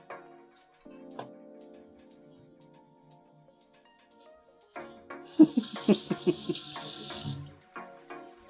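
Tap water runs into a sink or pot while noodles are being cooked, a steady hissing stream that swells louder for a couple of seconds with a few clinks, then stops, set in a quiet kitchen.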